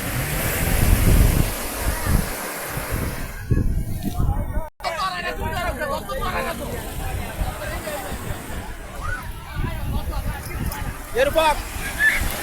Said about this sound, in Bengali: গর্জন অবশ্যই শুনতে পাচ্ছেন। সমুদ্রের ফেনারাশি, পুঞ্জীভূত ফেনারাশি তীরে আসতে পড়ছে।